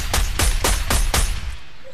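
Five evenly spaced shots ring out from a rifle in Fortnite, loud and close, each a sharp crack with a short tail, followed by a fading echo and no talk.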